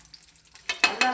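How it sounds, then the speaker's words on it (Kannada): Butter and oil hit a hot pan with a few sharp, close sizzling bursts after a near-silent start, each flare of frying noise fading slightly before the next. "ಇವಾಗ ಈ ಪ್ಯಾನ್ಗೆ ಸ್ವಲ್ಪ ಬಟರು, ಆಯಿಲ್ ಆ್ಯಡ್ ಮಾಡೋದು."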